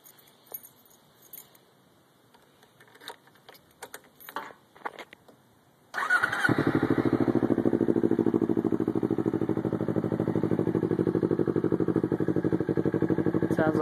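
A Kawasaki Ninja 250 motorcycle fitted with a Two Brothers aftermarket exhaust starts after a few seconds of quiet handling clatter, then settles into a loud, steady, throbbing idle close by.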